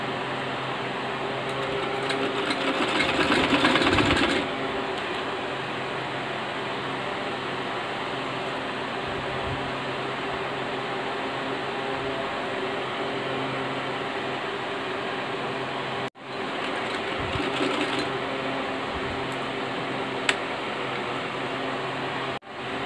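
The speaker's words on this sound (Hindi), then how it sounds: "यहाँ पर पहले मैं एक सीधी सिलाई लगाती हूँ, यहाँ पर हमें एक सीधी सिलाई लगानी है और लंबी चाल से लगानी है हमें" A sewing machine runs a long straight basting stitch through suit fabric, a steady mechanical whir with a louder burst early on, a brief stop, then continued stitching.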